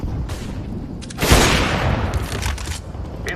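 A flashbang grenade bursts in a competitive shooter game with a sharp, loud bang followed by a bright ringing wash that fades over a couple of seconds, among lighter game sounds.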